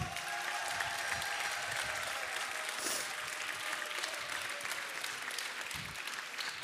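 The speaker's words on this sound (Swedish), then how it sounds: "Jag tycker vi ger dem en applåd på det." A large audience at a music festival semifinal applauds the evening's artists in steady, dense clapping that holds at an even level throughout, with faint cheering beneath it.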